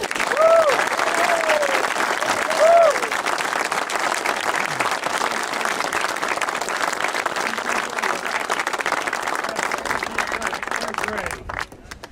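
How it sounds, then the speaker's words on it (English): A ceremony audience at a coach's bust dedication bursts into loud, sustained applause, with some cheers and whistles rising over dense clapping before it tapers off near the end. "we believe that you join all of us here today with one resounding applause of thank you, Frank Girardi."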